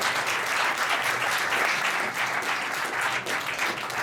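Studio audience steadily applauding a guest at a French show, dense continuous clapping filling the room at an even, loud level throughout, with no one speaking over it.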